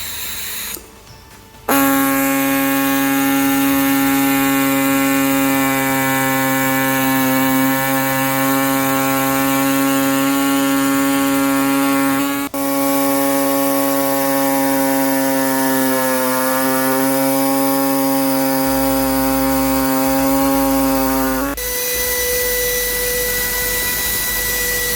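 A Dremel-style rotary tool cutting the center bar off a Honda bumper, a loud, steady high-pitched whine with a strong harmonic drone that dips in pitch while loaded and runs continuously for about twenty seconds.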